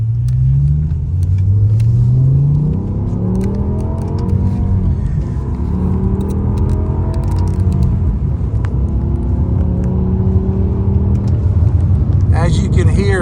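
A BMW M6 with its V10 engine and Dinan sport exhaust accelerates in a steady, loud rumble, pitch climbing and falling through gear changes, with a voice talking over the engine throughout.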